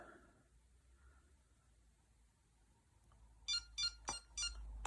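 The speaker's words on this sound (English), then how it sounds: "it'll make 4 orange beeps." An Owlet Smart Sock 3 baby monitor base station gives four short, bright electronic beeps in quick succession near the end, following a few seconds of near silence and faint hum.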